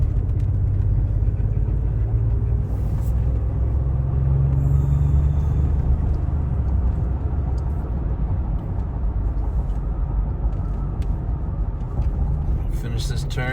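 A car cruising on a highway while swinging through a long turn onto Interstate 80 on the route from Denver toward Jackson. A steady, loud engine and road rumble runs unbroken throughout.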